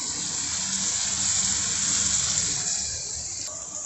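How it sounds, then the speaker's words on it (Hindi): Ginger garlic paste frying in a hot pan for a home-cooked curry, a loud, continuous close sizzle that eases slightly near the end, with no talking. "फ्राई करेंगे ताकि अदरक लहसुन का कच्चापन जो पेस्ट में आ होता है वो चला जाए"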